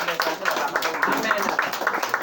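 Guests clapping together at a family dinner, a steady patter of hands spread through the room with voices talking over it.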